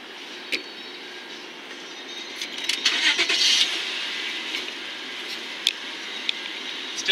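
A brief whirring crank swells in the middle, then a 1998 Honda Accord V6 engine settles into a steady, fairly quiet idle, with a few small clicks scattered throughout.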